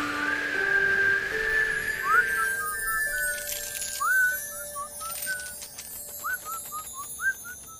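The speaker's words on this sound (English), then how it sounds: "Try whistling." Whistling in the animated cartoon Robbie the Reindeer plays a cheerful melody of short, bright rising phrases, repeated in small bursts, with a faint tinkling in the background.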